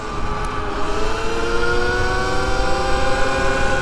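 A Sur-Ron electric dirt bike cruises at about 40, its close, loud electric motor whine holding steady and rising slightly in pitch over a strong rush of wind.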